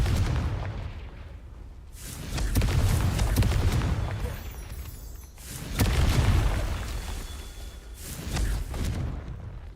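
Three heavy booming blasts from the Confringo explosion spell in Hogwarts Legacy, each swelling and fading over a second or two, loud and full with a spaced rhythm between them.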